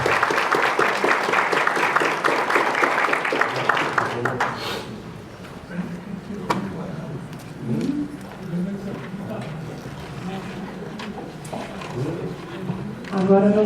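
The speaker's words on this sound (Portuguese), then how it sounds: "O pessoal quer uma salva de palmas, é para vocês mesmos que vocês merecem." Audience at a Brazilian holistic conference applauds for about five seconds with loud, dense clapping, then someone speaks into a microphone over faint room noise.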